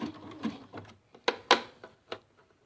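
A hand-crank sewing machine stitches along the edge of quilt fabric, making a few sharp mechanical clacks and ratcheting clicks with short pauses between them, close and fairly quiet.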